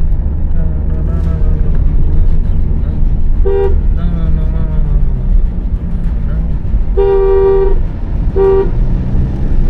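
A car horn on a Maruti Suzuki Ignis gives short, loud toots in a few separate bursts over engine and road noise on a mountain road in Ladakh, with voices talking underneath.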